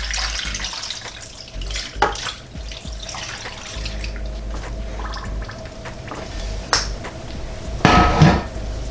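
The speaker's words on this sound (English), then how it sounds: "Now I'm going to get my water and apple juice that I have here and pour it in." Water and apple juice are poured into the pot of an Emeril Lagasse pressure air fryer holding baby back ribs, making a steady close splashing pour with a few sharper knocks and a louder splash near the end.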